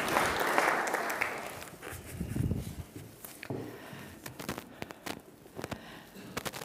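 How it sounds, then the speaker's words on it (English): A church congregation claps and cheers during a Sunday service baptism, with a loud swell of applause at first that thins into scattered claps and occasional sharp hits, the room sounding fairly distant. "give her a big clap and a cheer, yay"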